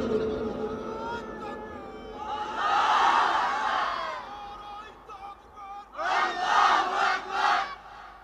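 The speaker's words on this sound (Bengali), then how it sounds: "মাঝখান থেকে এক ভাই দাঁড়িয়ে নারায়ে তাকবীরের আওয়াজ তুলে পুরা ময়দানকে প্রকম্পিত করে" A large crowd roaring the Nara-e-Takbir chant at an outdoor gathering, two loud surging waves of massed shouting, the second broken into rhythmic bursts, over a lingering backdrop of voices.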